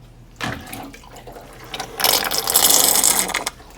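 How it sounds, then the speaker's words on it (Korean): Water is poured into the condenser of an LG Tromm electric dryer during home cleaning, gurgling as it drains underneath. A short splash comes first, then a louder sustained rushing pour of about a second and a half near the end. "물 밑으로, 이 밑으로 들어가는 그런 물소리가 들립니다."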